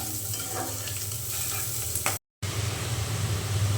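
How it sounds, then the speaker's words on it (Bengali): Cauliflower and rohu fish fry in a pan with a steady close sizzle and some stirring, broken by a brief cut of silence before the frying resumes. "আমি ভালো করে ভেজে নেব"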